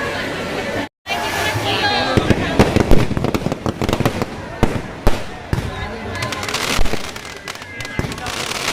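Rapid crackling and banging fireworks at a Kali temple anniversary festival in Uluberia, bursts overlapping at close range with a few sharper louder cracks, a crowd murmuring underneath throughout.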